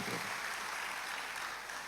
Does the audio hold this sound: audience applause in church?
yes